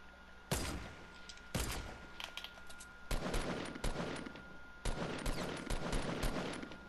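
Repeated bursts of video game gunfire crack out in several clusters, sharp and fairly loud against a steady background hum, with short pauses between volleys.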